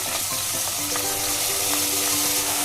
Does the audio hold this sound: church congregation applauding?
no